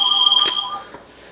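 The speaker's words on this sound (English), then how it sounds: "the phone's ringing and distracting me, sorry." A telephone rings with a steady electronic tone for under a second, then stops. The room is quiet afterward.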